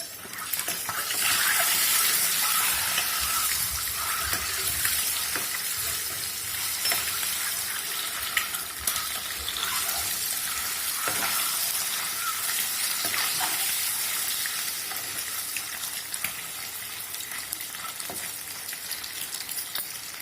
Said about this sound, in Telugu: మంచిగా వేయించుకోవాలి.